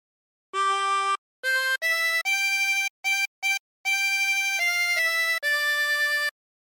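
Waltzing Matilda on a 24-hole tremolo harmonica, a series of clear wavering notes in short phrases with small pauses between them, played alone.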